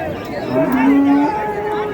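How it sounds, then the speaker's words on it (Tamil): A reddish bull at a cattle market in Tirupattur gives one loud, close moo that swells and holds steadily for about a second, with faint crowd murmur underneath. "நல்லா அருமையான ஒரு செவல நேர காளை."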